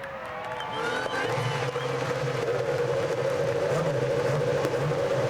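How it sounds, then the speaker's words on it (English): IndyCar race car engines fire up at Kansas Speedway in 2010 and settle into a loud, steady droning roar, several engines together with a faint crowd murmur behind. "Drivers, start your engines."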